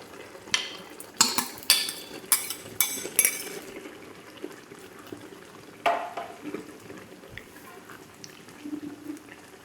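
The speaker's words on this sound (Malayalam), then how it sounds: "നമുക്ക് ഈ സമയത്ത് വേവിച്ച് വെച്ചിരിക്കുന്ന പരിപ്പ് കൂടെ ഒന്ന് ആഡ് ചെയ്ത് കൊടുക്കാം" Cooked dal is added to tomato and okra simmering in a pan and stirred in, producing a run of quick clinking spoon scrapes and stirs, then softer wet stirring and a faint simmer.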